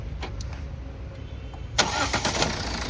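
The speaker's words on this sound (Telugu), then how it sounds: "సింగిల్ సెల్ఫ్లో స్టార్ట్ అవుతుంది చాలా పర్ఫెక్ట్ ఉంటుంది" The 1.4-litre diesel engine of a 2015 Toyota Etios Cross cranks and catches partway through, then settles into a rough, steady idle after a quiet stretch.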